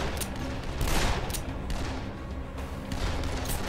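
Rapid revolver gunfire in the Dead Island video game, a loud dense run of shots and impacts layered over continuous game noise with no pauses.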